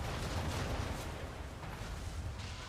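A ship fires a volley from its cannons in an Assassin's Creed video game. The booming blasts blend into a continuous, heavy rumble that runs throughout at a fairly even loudness.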